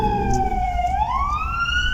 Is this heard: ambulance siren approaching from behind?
yes